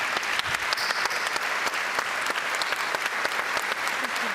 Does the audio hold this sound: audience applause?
yes